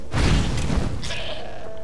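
A goat bleats in Skyrim, one loud wavering call up close, followed by a softer thud and a faint chime-like tone as it fades.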